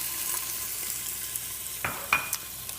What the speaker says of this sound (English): We'll start with a little oil for sauteing. And then I will throw in onions,